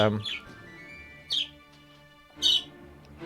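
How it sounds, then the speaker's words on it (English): Chippy, a pet budgie, gives short high chirps at intervals in the background, with a few bright bursts over a low, steady room hum. "If you can hear any strange background noises, that's my budgie Chippy"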